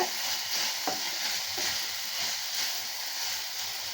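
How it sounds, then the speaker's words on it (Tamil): Steady hissing sizzle of vegetables for a pumpkin and green pea kurma sautéing with a little turmeric in a hot pan, continuous and fairly quiet, with an occasional faint scrape. "நல்லா வதக்கி விடலாங்க"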